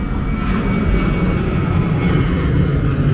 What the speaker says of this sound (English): There's a plane up there somewhere,